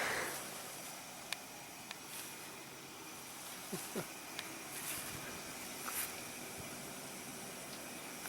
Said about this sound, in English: You can hear the blower still running.